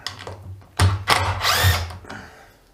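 A DeWalt DCD710 cordless drill driver drives smaller screws into wood, the motor whirring in several short bursts that rise and cut off, loud and close, with no talk.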